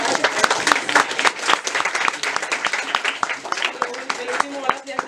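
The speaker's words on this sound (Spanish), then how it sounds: "También un aplauso para el público atento y colaborativo." An audience claps enthusiastically after a talk on the origins of ecofeminism, a dense, steady patter of many hands with voices speaking over it throughout.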